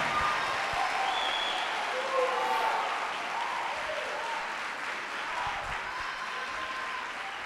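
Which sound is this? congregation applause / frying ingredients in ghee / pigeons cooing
congregation applause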